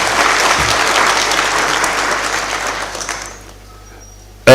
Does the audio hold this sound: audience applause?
yes